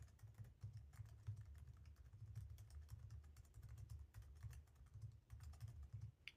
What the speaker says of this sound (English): here's what it sounds like when you type